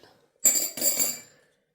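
A spoon stirring sugared tea in a cup: two quick bright clinks of metal against the cup, close and clear, followed by silence.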